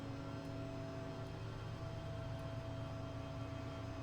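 A Learjet 45 taxiing in a flight simulator game, heard as a steady, quiet engine hum and whir with no change in pitch, continuous and even throughout.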